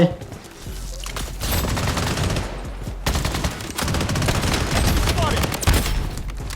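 Rapid automatic gunfire in the Blood Strike shooter game, dense loud bursts running almost continuously with short breaks, with a voice talking underneath.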